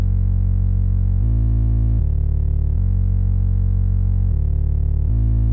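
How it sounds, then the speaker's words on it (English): A deep, sustained synth bass patch built in Omnisphere holds steady, distorted tones that change pitch every second or so, loud and continuous with no voices. "This is the main bass sound behind the song, and I've made this on Omnisphere"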